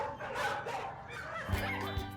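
Dogs bark in short, scattered bursts at an outdoor charity dog walk, mixed into steady crowd bustle, with a couple of louder, closer barks near the end.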